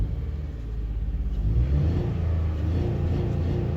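A 2005 Honda Odyssey engine revving with poor throttle response and cylinder management stuck, a loud steady rumble that climbs and holds high, close and unbroken, with no voices.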